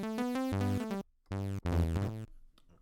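Buttersynth wavetable synthesizer set to seven voices plays short bursts of bright, harmonically rich chord tones with stepping pitches, separated by brief gaps and ending in a faint tail, with no talking.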